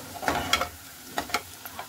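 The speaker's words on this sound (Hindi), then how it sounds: "ये प्याज फ्राई हो रही है इधर" Onions frying in a pan, a low steady sizzle with a few scraping stirs and light clicks of a spoon, fairly quiet and close.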